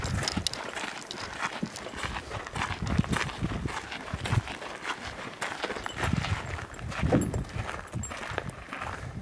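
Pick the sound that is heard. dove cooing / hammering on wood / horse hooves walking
horse hooves walking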